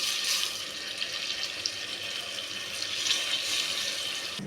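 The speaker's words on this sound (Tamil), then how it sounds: "இப்போ ஒரு படி தண்ணி ஊற்றிருக்கேன்." A steady stream of water pours onto rice in a cooking pot as tomato rice is being made. The hiss is continuous and fairly faint, with no talking over it.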